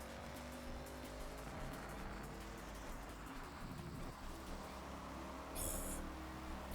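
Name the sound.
Subaru BRZ car driving in Forza Horizon 6 video game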